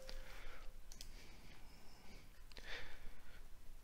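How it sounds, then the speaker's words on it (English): Computer mouse clicks while switching on Microsoft Defender threat protection: a few small, quiet, crisp clicks spaced roughly a second apart over a faint background hiss. "Let's click turn on."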